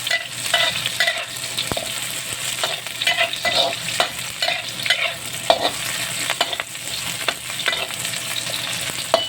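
Shark fish sautéing in a pan for apritada, a constant close hiss of frying with frequent scraping and clattering stir strokes throughout.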